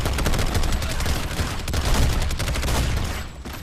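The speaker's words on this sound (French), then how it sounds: "le cartel finit par débarquer et encore une fusillade" Dense gunfire from a film shootout in The Expendables, with a cartel attacking a village: a continuous loud barrage of overlapping shots and bursts, sustained for several seconds with no speech over it.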